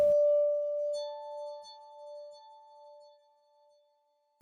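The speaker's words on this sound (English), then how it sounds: "This is from the stock plugin Sakura, which has some beautiful sounding pads." Soft synth pad from the stock Sakura plugin in FL Studio, Lay Pad FG preset: a single sustained glassy tone with gentle shimmering overtones, slowly fading over several seconds, heard alone.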